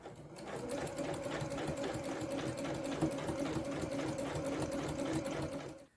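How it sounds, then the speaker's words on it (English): A sewing machine runs steadily, stitching a quarter-inch seam in scrap fabric for a garden apron, with a fast, even mechanical whir and rapid needle ticking that stays close and loud throughout. "So now I'm going to sew my 1/4 inch seam."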